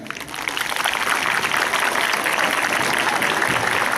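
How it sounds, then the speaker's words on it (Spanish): An audience at an anniversary talk in Tacna gives Professor Walter Barrios Acevedo loud, sustained applause, dense clapping that swells in within half a second and stays strong and even throughout. "Fuertes aplausos para el profesor Walter Barrios Acevedo"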